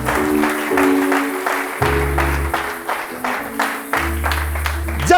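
A church congregation applauds together after a call to acclaim the word of the Lord, the dense clapping continuous for several seconds under sustained organ or keyboard tones.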